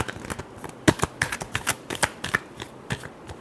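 Tarot cards are shuffled close by in a quick run of crisp riffling flicks and soft slaps, a brisk rhythm with no talk over it.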